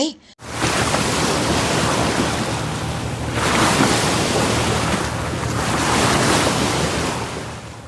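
Stormy ocean surf crashes against wooden trading ships in a monsoon, a steady loud roar of waves and wind noise with surges building and easing throughout, no voices.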